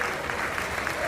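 An audience applauds loudly and continuously at a Mahavir Janmakalyanak event, a dense wash of clapping filling the short stretch.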